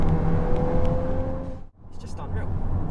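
A VW Golf MK8 with a DSG gearbox, its engine note droning steadily from inside the car, then cutting out briefly during a downshift before picking back up, with a voice talking alongside.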